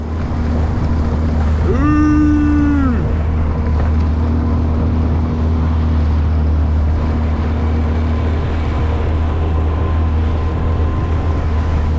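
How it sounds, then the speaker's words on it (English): A steady outboard motor on an inflatable boat drones with rushing wind and water, loud and continuous, with a brief rising whine early on. "get the engine started, we'll hop in"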